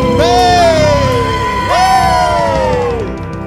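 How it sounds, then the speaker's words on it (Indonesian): A church congregation cheers loudly for God in two big swelling waves of shouts and whoops, the second rising after a short dip and then slowly fading, with no clear speech. "Sorak-sorai paling meriah buat Allah kita"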